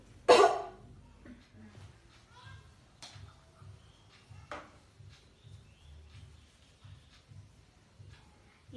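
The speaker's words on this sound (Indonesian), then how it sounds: "Tarik nafas, tahan, batukan" A woman gives a deliberate, forceful cough after a deep-breathing exercise, one loud burst at the start followed by quieter breaths and soft murmuring talk.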